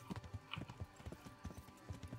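Horse hooves clip-clopping in a steady trotting rhythm in Kingdom Come: Deliverance, fairly faint, with a brief whinny-like sound in the middle.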